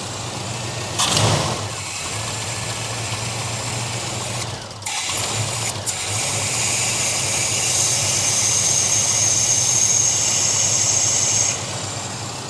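A fuel-injected Chevrolet El Camino engine idles at close range, with a steady mid-pitched rumble broken by a few brief clunks and shifts as the idle settles down.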